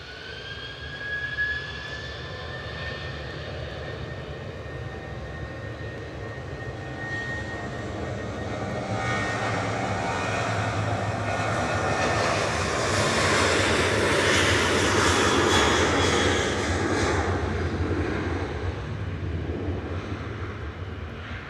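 TUI passenger jet at Manchester Airport, its engines roaring steadily and swelling louder mid-way before easing slightly, a broad whining rumble held for over twenty seconds with no talk.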